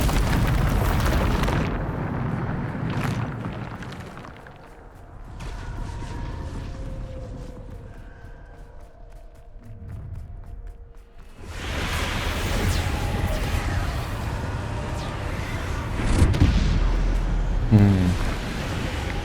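A Bombarda spell explodes in the video game Hogwarts Legacy, loud booming blasts and rumbling at the start, a quieter stretch of whooshes and mechanical hum, then another heavy roaring burst of explosions.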